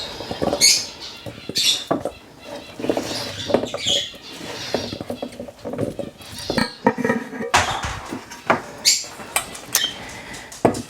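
Chopped rhubarb pieces drop and tumble into a bowl, with irregular soft knocks, patters and clatters of pieces hitting the bowl, close and fairly loud, in scattered bursts.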